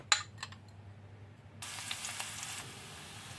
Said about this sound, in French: Verser de l'huile dans une poêle. Et je vais faire cuire de l'ail et échalote.